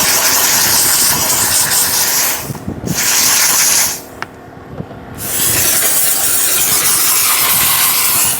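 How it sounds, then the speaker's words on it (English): An Aqua Pro steamer cleans a car interior with loud, close bursts of hissing steam, cutting off twice briefly before resuming in a steady spray. "We're using the Aqua Pro steamer, which has been doing really good."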